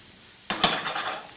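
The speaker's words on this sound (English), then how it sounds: "So while our onions are sauteing there" Onions sauté in a pan for a steak and parmesan frittata: a sudden metallic clank of utensil on pan, followed by a brief, soft sizzle that quickly fades.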